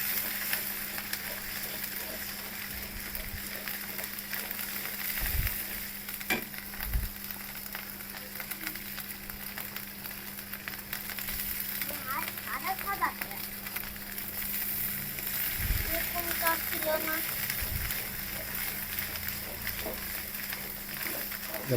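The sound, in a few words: frying cashews and pistachios in a pan for hilsa curry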